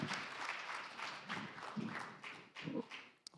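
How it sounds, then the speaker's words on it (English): Audience applauding panelists at the Korea-LAC Business Summit, a steady wash of clapping from a crowd lasting the whole moment, with a few sharper claps standing out near the end. "Applause, applaud, please."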